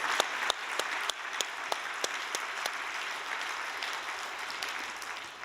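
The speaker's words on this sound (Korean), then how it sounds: "여러분 감사의 박수를 올려 드립시다" A church congregation applauds in thanks, steady clapping with a few sharp individual claps standing out near the front and the sound holding at an even level.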